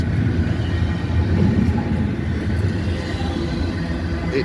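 ZLAM freight train rolling past on the track, a loud, steady low rumble and rhythmic clatter of wagons close by, unbroken throughout with no voices.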